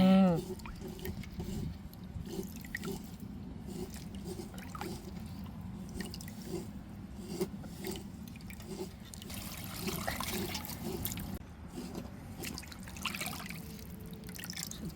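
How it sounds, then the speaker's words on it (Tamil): Cut goat intestines are washed by hand in water, with steady sloshing, dripping and squishing up close that continues throughout, without talking. "இப்போ குடலை வெட்டியாச்சு நம்ம நல்லா க்ளீன் பண்ணி எடுத்துக்கிடுவோம்"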